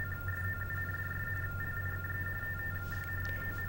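TTY tones on a telephone line during a call transfer, a steady two-pitch electronic warble that runs continuously and evenly with a faint hum beneath it.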